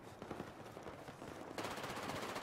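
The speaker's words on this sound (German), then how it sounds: "Der Waffe kann man so wunderschön rumsprayen." Rapid machine gun spray fire in the Battlefield 4 multiplayer video game, a dense, continuous burst of gunshots that grows louder partway through, with no talking.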